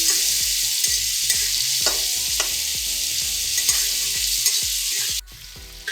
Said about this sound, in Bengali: গ্যাসের ফ্লেমকে মিডিয়াম রেখে কিন্তু মাছগুলোকে ভাজতে হবে